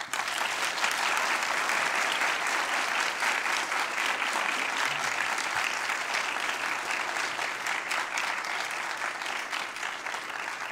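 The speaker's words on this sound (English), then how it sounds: "You're going to get a lot of applause today" An auditorium audience applauds Professor Kimberlé Crenshaw at the Yale School of Public Health Winslow Medal ceremony: a continuous, even wash of clapping that holds steady and fades slightly toward the end.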